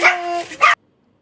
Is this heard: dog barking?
yes